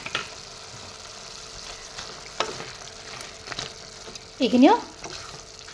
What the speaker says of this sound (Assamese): এফালৰ পৰা লৰাই যাম আদা নহৰুখিনি